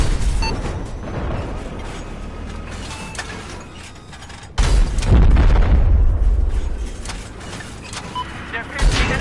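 Tank cannon fire and explosions in Battlefield 4 combat: heavy rumbling booms and blasts over continuous battlefield noise, with a loud close impact midway, and voices talking over it.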